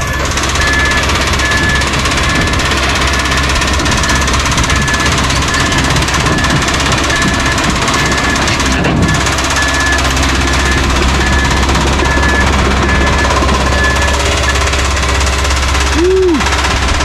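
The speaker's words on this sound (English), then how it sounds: "That's a rod. That's a rod. It's hammering." A loud Cummins QSB 4.5L diesel engine runs steadily with a rapid, metallic rod knock hammering through it, continuous and close, with no voices.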